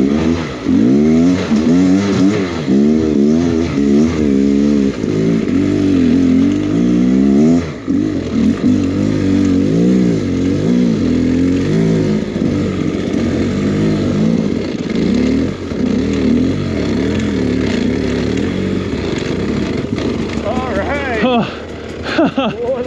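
A Beta X Trainer dirt bike engine revs loud and close on a snowy trail, warbling up and down in rapid throttle blips and sustained pulls throughout, with a brief dip midway.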